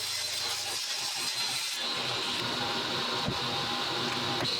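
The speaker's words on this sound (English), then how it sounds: "Next was cutting down some 1/4-inch plywood." A power saw cuts down a sheet of quarter-inch plywood in a workshop while building a roll-top desk, giving a steady, loud, dense whine with rough buzzing texture that runs continuously through the whole stretch.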